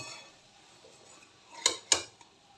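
Metal spatula scrapes and clinks twice against a pan while pumpkin chhokka is gently turned from the bottom, two sharp close knocks over a quiet kitchen background.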